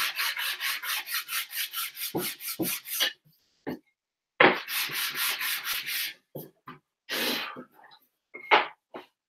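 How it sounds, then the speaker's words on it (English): Sandpaper rubbing squeezed-out wood glue off a wooden stool, close and fairly loud, in quick back-and-forth strokes grouped into bursts with short pauses; no one speaks. "now I'm going to want to sand that one because a little bit of glue got out there"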